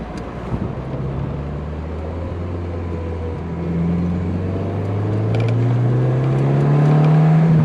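A 1990 Saab 900 Turbo Convertible drives through a roundabout. Its engine drone rises steadily in pitch as it accelerates, with wind buffeting the open car and no speech.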